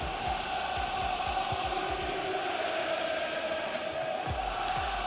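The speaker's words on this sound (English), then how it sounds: "Don't know if you can hear it in the audio, but the Bournemouth crowd are certainly up" A stadium crowd in the EA FC 24 football game, with Bournemouth fans roaring, forms a steady, distant wash of cheering under repeated low thuds, with no clear talk.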